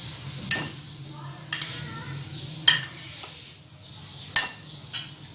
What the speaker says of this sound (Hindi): इसको भी अच्छा सा हमने मिक्स कर लेना है